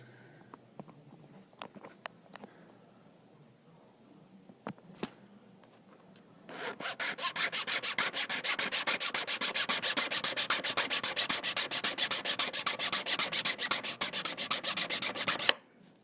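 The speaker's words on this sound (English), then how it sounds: "what I'm doing when I'm off camera is I'm filing that little clear arm off" A file rasping off a small clear plastic arm on an RC winch: a few scattered clicks and taps, then about nine seconds of fast, steady back-and-forth scraping strokes, close and moderately loud, with no voices.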